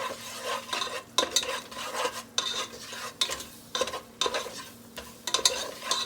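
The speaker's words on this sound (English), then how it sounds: "So I want to brown my flour." Flour browning in a hot pan is stirred with a utensil, giving repeated scraping strokes in an uneven rhythm over a faint sizzle, close by.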